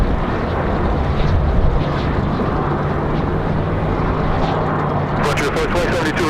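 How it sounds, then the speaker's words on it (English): A Cessna light aircraft lands at Raleigh-Durham on a windy day. Its engine and the wind give a constant broad rumble, and a voice talks over it throughout. "That's probably one of the smoothest arrivals I think we've seen all day for this Cessna"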